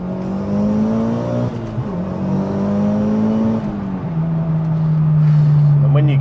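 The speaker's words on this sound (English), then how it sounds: "Let's just put this through the gears, look." A TME Evo car engine revs up steadily, dropping pitch briefly at each gear change before climbing again, loud and close with no talking.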